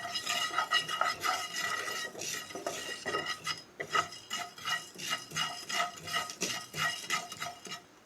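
Black pepper and fennel seeds dry roasting in a pan, stirred steadily with a scraping, rattling rhythm of spoon against metal, close and fairly loud, with no voices.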